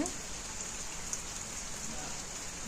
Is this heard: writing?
no